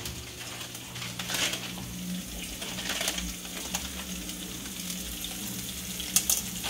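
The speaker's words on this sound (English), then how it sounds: "we're letting the spices fry off quickly" Spices sizzling steadily in a hot pan for a meatball sauce, with chili powder and masala in the mix. A continuous frying hiss with a brief stir and soft clatter near the end.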